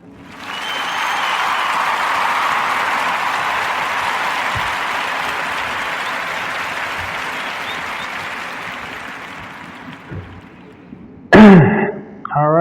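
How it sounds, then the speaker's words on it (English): A podcast's small audience bursts into loud sustained applause that gradually thins and tapers off, followed by a quick throat-clearing sound at the end. "So we're just gonna clap it up for all of them this evening."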